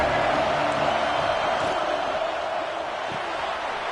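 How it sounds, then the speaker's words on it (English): Stadium crowd roaring in a college football video game, a dense, continuous wall of cheering that stays loud and steady throughout without distinct voices. "This crowd ready to make its presence known."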